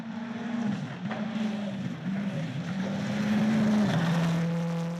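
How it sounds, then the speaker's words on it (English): Proto rally car running a Mitsubishi Evo 10 engine and running gear on a Coromandel stage, engine note rising and dropping through gear changes at moderate distance, growing louder toward the end. "Proto cars have Mitsubishi Evo 10 engine and running gear, so Hayden very familiar with that"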